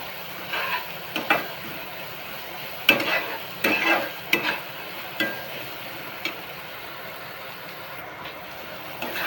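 Tomato and onion frying in a pan for a Marathi green-chilli matki bhaji: a quiet, steady sizzle broken by repeated spatula scrapes and clinks as the mixture is stirred, with no voices.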